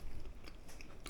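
Someone bites into and chews air-fried sweet potato roasted with olive oil, giving a brief soft crunch followed by close, quiet chewing.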